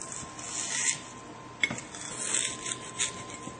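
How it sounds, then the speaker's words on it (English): A knife slicing onion pieces on a board during garlic and onion prep, soft rubbing scrapes with a few sharper cuts, close and moderately loud, no talking. "take your knife and you're going to cut down like this"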